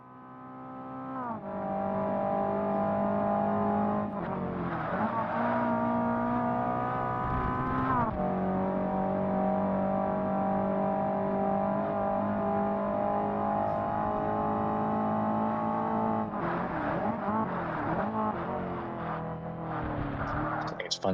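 Race cars in Forza Motorsport on original Xbox, a Toyota Celica chasing a Mitsubishi Talon, drone with steady, sustained engine tones and shifting pitch, loud and continuous, with brief gear-change breaks and voices talking over them.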